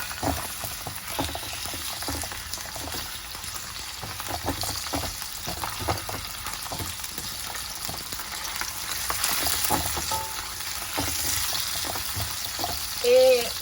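Alexandrian sausage sautéing in oil in a pan, a low continuous sizzle with scattered stirring clicks and scrapes, fairly quiet, with some faint talk in the background.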